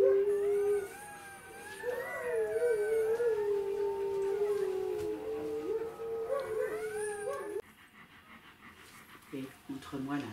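A pack of wolfdogs howls together as newborn puppies arrive, long rising and falling wails overlapping up close, then breaking into short yips and whimpers.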